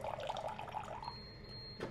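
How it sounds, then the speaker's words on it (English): Water pours from a countertop reverse-osmosis filter into a cup in a steady, quiet trickle that cuts off near the end, followed by a brief faint sound. "going to fill 5 ounces into your cup and then stop automatically"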